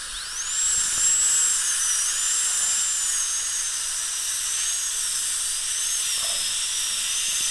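A dental drill fitted with a KS0 bur prepares a tooth for a porcelain veneer crown, giving a close, continuous high-pitched whine that wavers slightly in pitch over a soft hiss.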